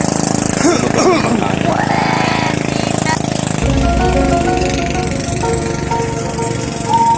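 A small motorized boat (bangka) engine runs steadily near the Dampalit mega dike in Malabon, a loud, continuous rough drone with rattling overtones that holds throughout.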